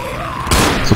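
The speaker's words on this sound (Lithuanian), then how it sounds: "Susprogo televizorius, kai jį šovė." A television set blows apart after being shot in the Left 4 Dead video game, a sudden loud burst of noisy blast that cuts in halfway through and stays harsh to the end.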